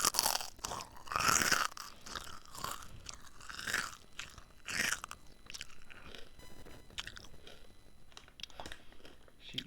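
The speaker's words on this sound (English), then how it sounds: "You just heard me chew some kettle potato chips, Korean barbecue." Close-up crunching of Korean barbecue flavored kettle potato chips, loud bites followed by several seconds of softer rhythmic chewing, recorded near a microphone.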